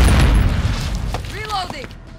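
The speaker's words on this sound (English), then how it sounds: "Throwing grenade!" A frag grenade explodes in Call of Duty during a Kill Confirmed match, a loud low boom up front that rumbles and fades, followed by brief game voice callouts.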